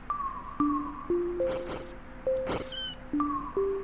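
Cartoonish cat meows in a Deltarune minigame repeat in a steady series of short, tonal calls, some rising or falling, with brief thuds and a sparkly chime between them; no talk.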